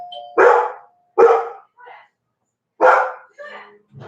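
A Bernese Mountain Dog barks three loud, close times in an uneven rhythm, with short quieter sounds in the gaps between barks.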